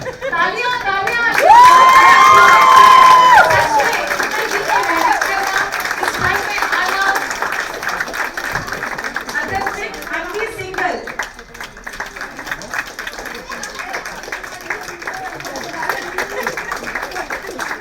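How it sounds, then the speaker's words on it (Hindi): Audience at a staged theatre play claps and cheers as cast members are introduced, a loud burst of whoops and shouts early on settling into steady applause, with a voice speaking over the crowd. "तालियां तालियां"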